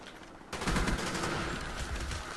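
Rapid gunfire from a powerful gun in a first-person shooter video game bursts in loudly about half a second in and keeps rattling without a break to the end, with no talk.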